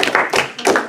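A classroom of students gives a short round of applause, three quick bursts of close, crisp clapping.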